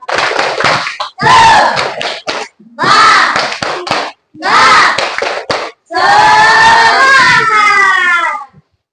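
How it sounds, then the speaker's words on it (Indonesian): A classroom of students performs the tepuk semangat clapping chant, with loud chanted voices and sharp rhythmic claps in several short bursts separated by brief pauses, ending in one longer sung phrase. "Coba tepuk semangat lagi."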